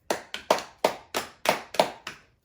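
Seven or eight sharp hand claps ring out in a fairly steady rhythm, each crisp and close, with brief decaying tails and no talking over them.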